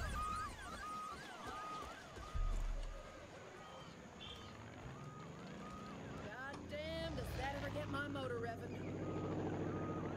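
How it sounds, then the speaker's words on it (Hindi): A helicopter arrives in Far Cry 5, its rumble rising under wind and scattered game effects, while someone talks over it. "और ये आपका चॉपर भी आ गया।"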